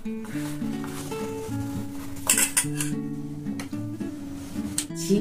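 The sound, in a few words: mixing khaja pastry into sugar syrup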